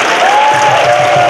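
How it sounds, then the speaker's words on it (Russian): Dense, loud audience applause at a business presentation, a continuous even wash of clapping with a faint tone running through it, lasting only a moment. "ваши аплодисменты"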